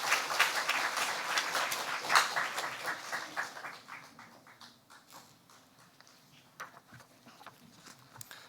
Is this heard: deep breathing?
no